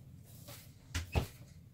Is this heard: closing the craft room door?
yes